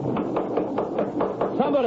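Steady knocks on a door, about eight evenly spaced raps, firm and close, with a voice starting up at the end.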